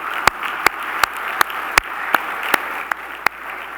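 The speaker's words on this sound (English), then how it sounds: "let's give Greg another round of applause for such a thought-provoking keynote" An audience applauds after a keynote at a regional State of the Region event, a sparse, fairly distant clapping with a few sharp, evenly spaced claps standing out over a soft wash of hands.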